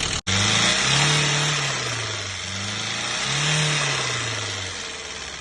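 A Saab 9000 engine, from a crash-damaged car with an oil leak, runs close by and is revved on the throttle in two slow rising-and-falling swells over a steady engine drone.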